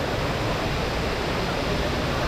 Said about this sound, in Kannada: ನೋಡಿ ಇದೆ ಫಾಲ್ಸು